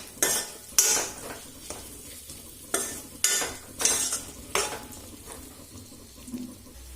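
Onions frying in a pan on the stove as a utensil stirs them, sharp scraping bursts at irregular intervals over a soft steady sizzle, close and alone with no talk.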